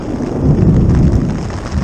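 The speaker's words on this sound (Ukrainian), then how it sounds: "Вже відчуваю, що проходить в сторону фронт грозовий" A deep, heavy rumble of thunder rolling loudly and close, with the hiss of heavy rain underneath.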